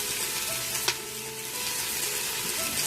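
Onion sizzling in an Instant Pot after beef has been seared, a steady, bright frying hiss with a brief clatter near the start and no voices.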